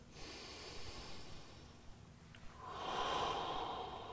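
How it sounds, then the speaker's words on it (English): A slow, deep inhale through the nose, then a longer audible exhale through the nose, soft and close during a men's yoga workout, no talking. "Deep breath."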